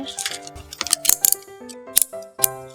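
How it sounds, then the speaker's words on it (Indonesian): Scissors snip through paper or card as a craft piece is cut out, giving a few sharp, close clicks and crisp cuts in an irregular rhythm over a faint tonal background. "Kita gunting lagi."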